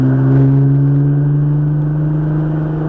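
A car circles a track at a high-performance driving event, its engine holding a loud, steady note that swells slightly as throttle is fed in, with no talk over it.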